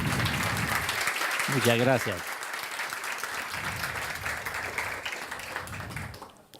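Steady audience applause for a former president, filling the room close and full, continuing throughout while someone speaks briefly over it.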